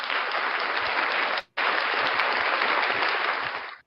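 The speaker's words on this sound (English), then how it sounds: "round of applause for Blackheart Knight, the one and only" A studio audience breaks into loud, steady applause welcoming a guest, dropping out for an instant partway through before resuming and fading at the end.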